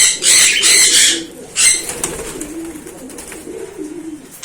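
Cockatiels and other birds in an aviary, with wing flaps and bursts of bright chirping over a steady background of cooing and soft calls, loud and close at first, then settling into quieter continuous chatter.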